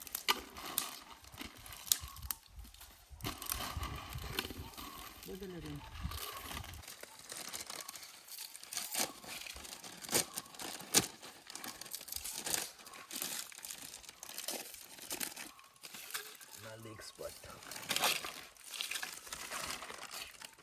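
A plastic bag crinkles and rustles steadily nearby for a long stretch, with irregular crackling handling noises and no clear talk.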